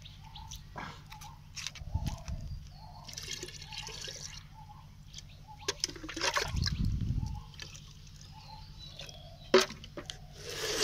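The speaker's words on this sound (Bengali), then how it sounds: "আজকে বেগুন গাছগুলিতে একটু খোলের জল দিয়ে দেব" Oil-cake fertilizer water poured onto eggplant plants in a home garden, with intermittent splashing and trickling bursts of liquid hitting soil, close and moderately loud, plus faint birdsong in the background.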